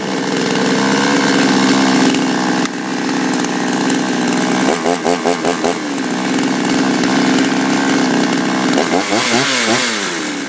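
A cheap Chinese clone chainsaw runs loud and close, its two-stroke engine holding a steady buzzing idle-to-midrange drone, then revving up in repeated bursts and surges before settling again.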